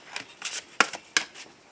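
Oracle cards being shuffled for a morning reading, a few short dry papery riffles and taps in quick succession, close and moderately loud with no talking.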